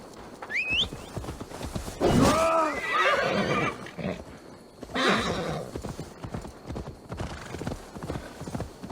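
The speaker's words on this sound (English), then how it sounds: "Now to deliver Magni his horse." In the Assassin's Creed Valhalla video game, a horse's hooves clip-clop steadily while it gives two loud, close neighs, with a high whistle-like call near the start.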